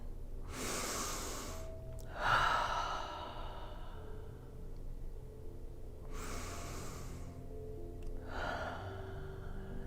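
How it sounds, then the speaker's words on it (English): Slow, deep breaths during a guided meditation, two long airy inhale-exhale cycles heard close and soft against a quiet background, with no speech over them. "Maybe take a few deep breaths in."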